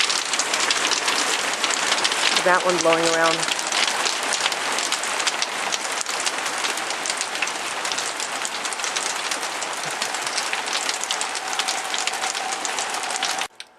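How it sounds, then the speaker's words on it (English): Heavy rain pours down steadily across a yard of apple trees, a dense, loud hiss of drops pounding surfaces throughout, with a brief rising whistle-like tone early on and a faint voice speaking near the end. "Look how hard it's raining."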